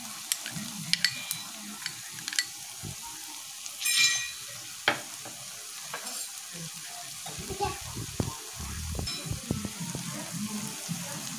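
Green chili paste and spices fry over low heat in a pan, a soft steady sizzle broken by scattered pops, clicks and stirring scrapes, close but fairly quiet, with a brief watery splash partway through.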